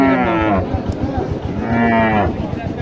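Sahiwal cattle at a crowded cattle market give two long, loud, nearby moos, each a deep drawn-out low, separated by a short gap with faint background noise.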